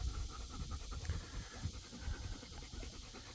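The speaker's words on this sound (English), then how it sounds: "if you probably hear these dogs behind me, they're all slobbering and making all kinds of noises." Several dogs pant rhythmically and slobber close by outdoors in the sun, a continuous wet, breathy chorus of overlapping huffs at steady moderate loudness, with no talking.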